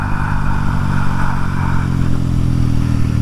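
A 2025 Kawasaki Z900 motorcycle is ridden, its engine holding a loud, steady drone mixed with wind rush and no clear change in revs.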